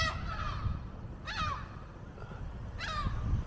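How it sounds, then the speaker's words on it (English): Seagulls in Birmingham's Jewellery Quarter give three harsh, separate calls spread over a few seconds, fairly close and clear above a low street hum, with no talk. "I don't like those seagulls, they come so close."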